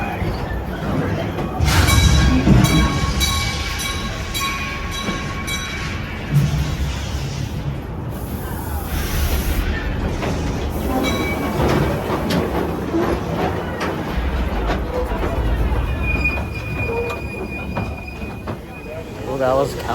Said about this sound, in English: Well, that was Calico Mine Train.